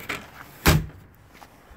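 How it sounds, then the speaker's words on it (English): A truck camper's screen door on a 2019 Palomino Backpack HS750 swings shut with one sharp, close clack, preceded and followed by faint light rattles. "It does have the screen door that separates."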